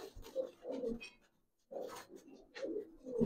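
Silver red-footed Bagha pigeons give soft, low, rolling coos in two bursts separated by a short pause, close and quiet in an indoor loft.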